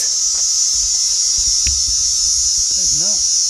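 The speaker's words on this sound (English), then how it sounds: "Listen to those cicadas." Cicadas in coastal Australian bushland, a loud, steady, high-pitched buzzing drone that continues unbroken throughout, with someone talking briefly beneath it.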